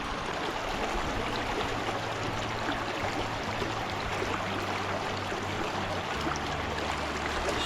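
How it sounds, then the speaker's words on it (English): Water rushes steadily through a gold sluice box outdoors. It is a continuous, fairly loud flow with a low hum running underneath. "Sluice is still running really nice."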